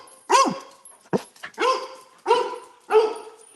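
A dog barks five times nearby, loud, sharp and evenly spaced, with brief pauses between barks.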